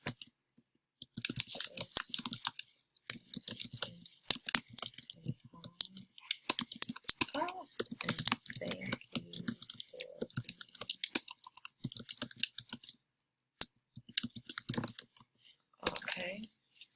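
Rapid, uneven clatter of keys as a Facebook message is typed on a computer keyboard, close and fairly loud in bursts with brief pauses, ending in a few sharper clicks.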